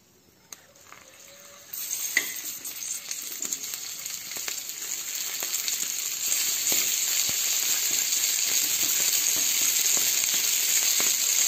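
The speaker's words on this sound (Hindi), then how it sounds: "मटर को चलाते हुए 3 से 4 मिनट सेक लेंगे।" Green peas stirred in a hot pan with mustard oil for a spicy pea chutney give a steady sizzle that jumps louder twice, with faint clinks and scrapes from stirring.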